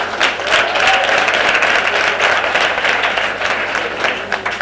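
Audience applause at a mining school of specialisation launch event, a steady dense clapping throughout at moderate loudness, with a faint voice briefly audible underneath.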